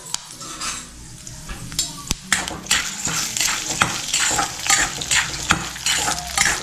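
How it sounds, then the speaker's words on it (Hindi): Ingredients roast in a pan over low heat, giving a close, crackling sizzle with repeated scraping and stirring strokes and light metal clinks of utensil on pan, rising and falling in uneven bursts. "इनको कम आंच में ही रोस्ट करना है"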